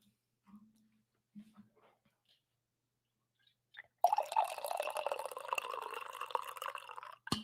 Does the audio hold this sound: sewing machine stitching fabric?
no